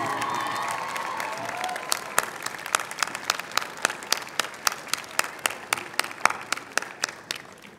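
Graduates at a commencement ceremony clap and cheer. Scattered, distinct claps come through close up over a broad crowd roar that starts loud and fades to lighter applause.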